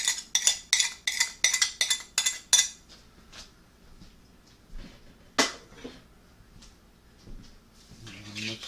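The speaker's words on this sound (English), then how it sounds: "And mix this all around." A utensil clinks and scrapes in a bowl as meatloaf ingredients are mixed with salt and pepper. About eight quick, bright clinks come in a rapid rhythm, then a few scattered knocks and stirring sounds, with a brief voice near the end.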